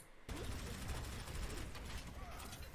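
Zarya from Overwatch fires her weapon at a barrier bubble in the video game, producing a dense, continuous stream of gunfire-like crackle that starts abruptly after a brief quiet and holds steady to the end.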